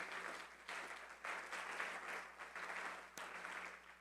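Several bursts of enthusiastic clapping from a church congregation, fairly distant and rising and falling in waves.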